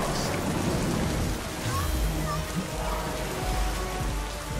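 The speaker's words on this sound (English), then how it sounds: "The rain comes." Rain in the video game SMITE falls as a steady, dense hiss that continues throughout, with faint tones and soft thumps mixed beneath it.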